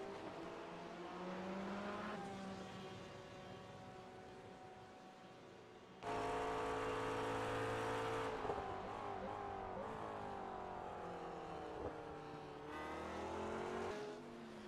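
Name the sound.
McLaren car engine driving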